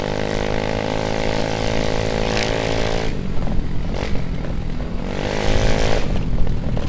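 A 2020 Mio M3 motorcycle with an Emberr Gledek exhaust revving and riding close by, a loud buzzing engine note that rises and falls with several throttle pulls.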